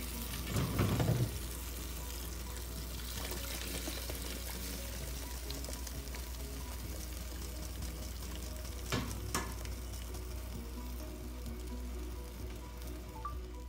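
Strained ground chili sauce is poured into a hot pot while cooking a shrimp and fish broth, hitting the oil with a loud splashing burst that settles into a steady, close sizzle and bubbling fry.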